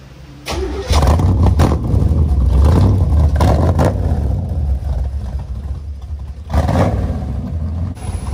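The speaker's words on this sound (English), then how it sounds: "I accidentally revved the C4 too loud." A 1986 Chevrolet Corvette C4 with a newly replaced distributor revs loudly up close, several sharp throttle blips rising over a deep idling rumble, then settling before one more rev near the end.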